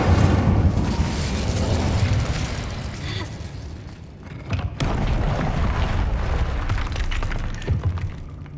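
The Incendio fire spell is cast in the video game Hogwarts Legacy, with loud bursting, booming blasts and crackling impacts in a chaotic, continuous battle soundscape.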